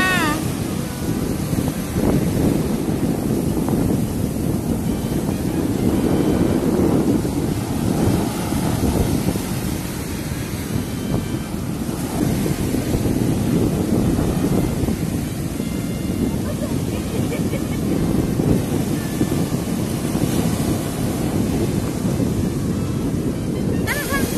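Sea waves at a beach resort in Ilocos wash in a steady, loud surge mixed with wind rumbling across the microphone, while people talk now and then.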